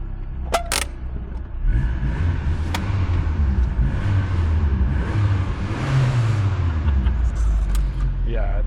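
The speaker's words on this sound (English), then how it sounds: "yeah, the exhaust is crazy. It's just so fun." A 1991 VW Golf 2 with a 1.8-litre 90 hp engine and automatic gearbox, heard at night with a low engine and exhaust rumble that swells as it revs and pulls, close and steady, with a few sharp clicks early on.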